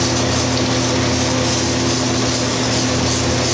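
Spray finish going on in light coats over the underside of a wooden stool seat, a continuous close hiss with steady hum underneath, unbroken for the whole stretch.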